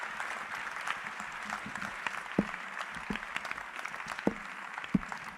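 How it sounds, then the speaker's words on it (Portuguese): Congregation applauding at a church service in Mampong, Ghana, a steady wash of clapping with a few sharp individual claps standing out. "Aplaudam Jesus."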